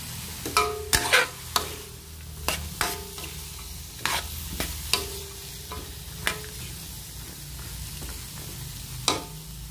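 Chayote stir-fried in a pan under a soft continuous sizzle, punctuated by a dozen sharp spatula clacks and scrapes at an uneven rhythm; no voices.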